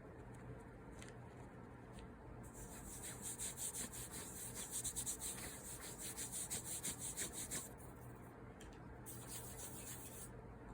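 Cornstarch powder is rubbed onto clean skin before sugaring wax, making soft, close brushing and rubbing strokes in a rhythmic back-and-forth pattern that swell in the middle and then ease off, with no talking.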